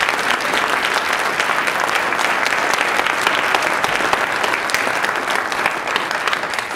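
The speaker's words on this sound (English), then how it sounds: "If we can give them a round of applause" A loud, dense round of applause fills a Black History Month celebration audience, steady and sustained from start to finish with no pauses, close and enveloping like a full hall clapping together.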